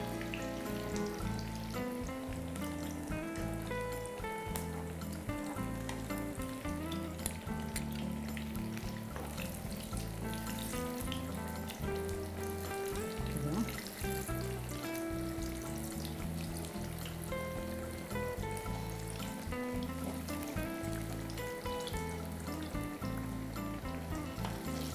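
Eggplant slices frying in hot oil, a steady dense sizzle with crackling pops running throughout, close and even in level, with no voices.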